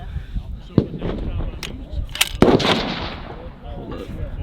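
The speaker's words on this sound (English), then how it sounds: "We'll shoot it again. Go for it." A rifle shot fired at a long-range PRS regional match on a 1400-yard course, a sharp blast followed by a rolling echo, with another crack earlier and people talking in the background.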